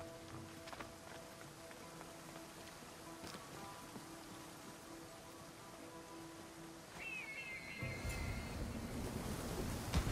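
A waterfall in the Assassin's Creed Odyssey video game gives a steady, full rushing-water roar throughout, with a brief whistling tone and a slightly louder surge near the end.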